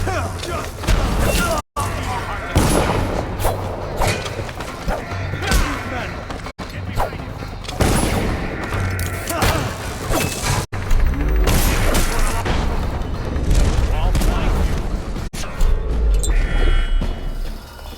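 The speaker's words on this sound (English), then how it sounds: "Explosion!" A loud explosion booms amid chaotic combat in Dishonored's Knife of Dunwall expansion, with thuds, clashing mechanisms and shouting guards layered in a dense, continuous wash of noise.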